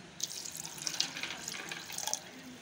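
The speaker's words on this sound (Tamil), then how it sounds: "இப்போ இதில் நம்ம தண்ணி சேர்த்துடலாம்." Water poured into a vessel of rinsed white chickpeas for soaking, a close, continuous trickling splash with bright droplet spatters, moderately loud and without speech.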